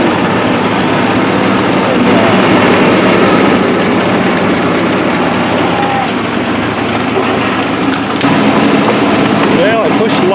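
An Allis Chalmers D17 tractor engine runs loud and steady while pulling trees out of the woods, a constant heavy low rumble that holds throughout.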